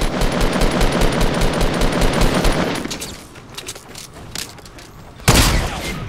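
Rapid automatic gunfire rattles loudly in a Fortnite Battle Royale match, a dense burst that drops to scattered distant shots before a sharp, loud blast returns near the end.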